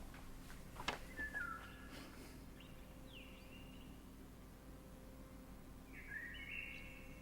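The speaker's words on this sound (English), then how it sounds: "This bird's chirping." A few faint, thin bird chirps, widely spaced, over a quiet low hum and background hiss.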